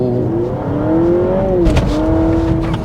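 A Honda Civic hybrid accelerates hard in a timed run, the engine note climbing steadily in pitch, briefly dropping at a shift, then rising again, loud and close with no talking.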